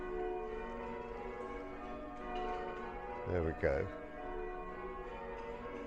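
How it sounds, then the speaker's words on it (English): Church bells rung by a team of bell ringers at St Peter's in Harrold, Bedfordshire, sound faintly as ringing tones over a steady hum, with a brief spoken remark partway through. "So if I pan back, you will see the bell ringers."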